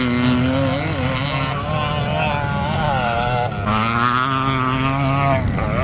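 A classic Honda CR250 Elsinore motocross bike races at a Scottish classic motocross meeting in Strathaven, its two-stroke engine wailing loud and continuous, pitch rising and falling through gear changes, mixed with other bikes and a commentator's voice.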